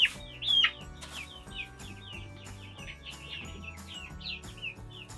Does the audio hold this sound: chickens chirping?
yes